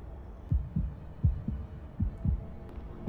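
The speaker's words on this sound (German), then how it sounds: "Jetzt hat er aber Herzklopfen." A pounding heartbeat from the video game Mafia: about six low, heavy thuds at a steady pace, close and clear over a quiet background.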